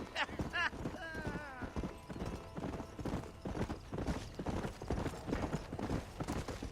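Horse hooves clip-clop at a steady riding pace in the Western video game Red Dead Redemption, a rhythmic trot running throughout under ongoing conversation, with a brief whinny near the start.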